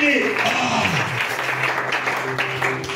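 A church congregation claps in praise, a broad, steady wash of applause heard under a preacher's loud, sustained voice.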